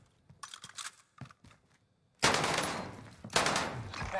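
Video game gunfire during a Fortnite-style battle royale match: a few scattered sharp shots early, then sustained loud bursts of rapid automatic fire after a short quiet gap.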